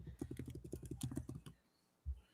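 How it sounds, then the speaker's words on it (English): Rapid typing on a computer keyboard forms a quick burst of close, dense key clicks lasting over a second, followed by a pause and one last heavier keystroke, with no voices. "That was a lot of typing really fast."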